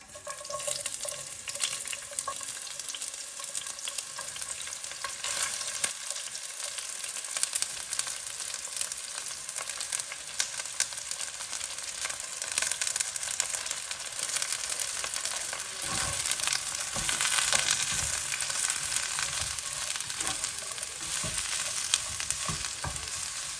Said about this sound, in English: And to this I'm just going to add in the onions. I'm going to cook them slowly for 10 minutes.